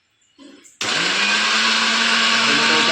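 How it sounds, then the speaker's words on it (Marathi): A kitchen mixer grinder starts up with a sharp jump to a loud, steady whir as chopped onion is blended into paste for a chicken masala, after a few soft handling knocks. "कांदा कट करून झाला आता मिक्सरच्या भांड्यात टाकून घेऊ"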